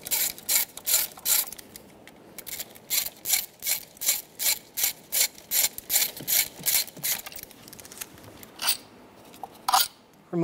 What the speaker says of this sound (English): Using a T40 bit, we're going to remove the two bolts out of the top of the ignition coils.